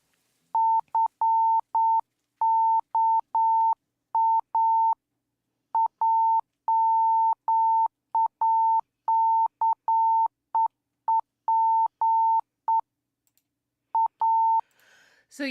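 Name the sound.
Morse code beeps added to flashing light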